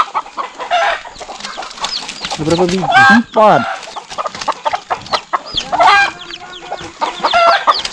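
Hens cluck and squawk close by around a nest in a pile in front of a farm hut, mixed with people talking over them in a busy outdoor setting.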